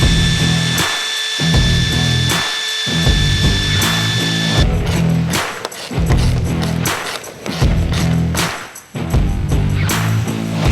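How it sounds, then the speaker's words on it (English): A power drill whirs loudly in repeated bursts, pausing briefly between runs as it bores a hole for roof mounting on a 2021 Polaris Ranger 1000 UTV, close and dominant throughout. "drill that out, and we will install the roof"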